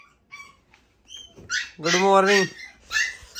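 A dog whimpers and gives a drawn-out, whining bark indoors, close by. A few short yips come in between, and people speak briefly nearby.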